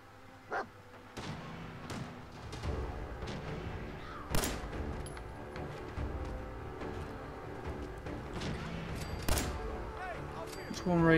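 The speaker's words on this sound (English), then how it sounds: "Now I can hear gunshots, but I'm not entirely sure where they're coming from." In a video game, gunshots boom as a few heavy thumps scattered across the scene, loudest near the middle and end, over a low continuous background of game ambience.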